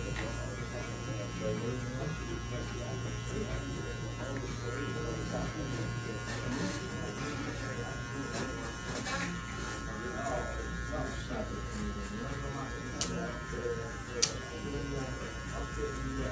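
Electric hair clippers buzz steadily and loudly while cutting hair at a barbering lesson, a continuous close drone with mains-like hum and a couple of sharp clicks near the end, with a voice talking over it.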